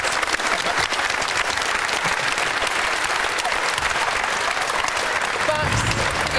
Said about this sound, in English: Guys, can we have a round of applause, please, to our stunning celebrities?